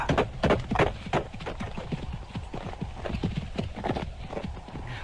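A horse being ridden along a short causeway toward a house, hooves clip-clopping in a steady, close rhythm of loud thuds that continues throughout.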